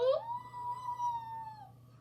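A human voice imitates a dog's long, aching howl: one sustained rising then level wail held for about a second and a half before trailing off, close and fairly loud, with no other talk.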